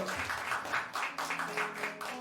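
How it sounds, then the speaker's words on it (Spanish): Church congregation claps together in a steady, rhythmic applause that fills the room at moderate distance, without pause. "¿por qué no le damos un fuerte aplauso al Espíritu Santo?"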